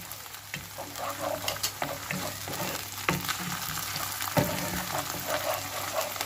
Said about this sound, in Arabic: هنا نقلي هذيك الطوماطيش مع البصله تري بيان